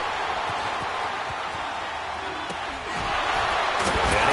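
A video game football stadium crowd roars and cheers steadily ahead of a big third down, a dense, continuous wall of noise that swells louder toward the end.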